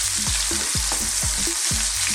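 Chopped red onion frying in a pan, a steady loud sizzle broken by repeated scraping stirs roughly every quarter second, with no talking.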